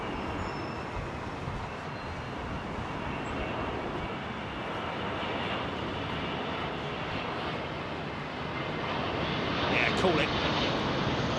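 Emirates A380 airliner roars steadily on approach to London Heathrow just over the runway threshold, a loud broadband engine rumble building slightly near the end, with a brief spoken remark.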